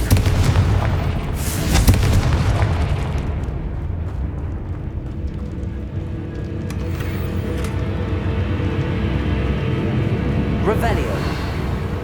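A Confringo blasting spell goes off in Hogwarts Legacy, aimed at destroying dragon eggs: loud, deep booming blasts stack into a rumbling roar, with a voice calling out over the noise.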